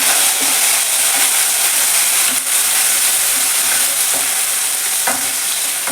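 Chopped tomatoes and crushed garlic frying in a pan, a loud continuous close sizzle and hiss with periodic scraping taps of a spoon stirring, no voices.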